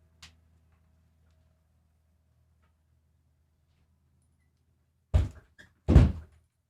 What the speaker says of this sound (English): Let me close this door now.